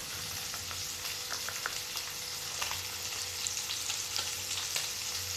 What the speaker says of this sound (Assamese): আমি হাই ফ্লেমত একদম অকণমান সময়ৰ কাৰণে ফ্ৰাই কৰিম।